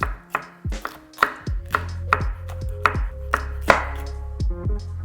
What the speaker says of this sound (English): Give the peppers a quick wash and slice them up into large chunks